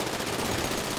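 Dense burst of gunfire in GTA 5 Online during a heist mission, continuous rapid shots packed tightly together over about a second, loud and with no voices over it.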